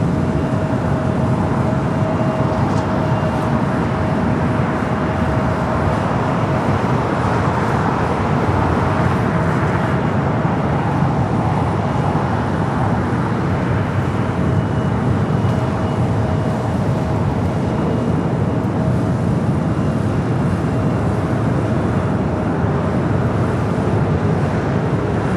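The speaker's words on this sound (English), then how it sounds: "Next takeoff, American Airlines Flight 1528 heading to Philadelphia." An American Airlines Airbus A321neo on its takeoff roll at LAX, a loud steady jet engine roar that holds broadband and unbroken throughout, with no talk over it.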